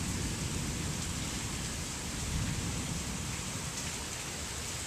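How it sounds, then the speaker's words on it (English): Heavy rain pours through a tree line beside a pond during a June storm, a constant, dense wash of noise with scattered drip patter and no voices. "This is like the tree line rain experience."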